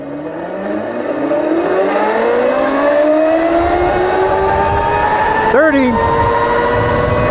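Electric motor of a Trumoto mini dirt bike with the 6 + 7 mod kit spinning up with the rear wheel in the air, a steady rising whine climbing in pitch, close and loud, while someone talks over it.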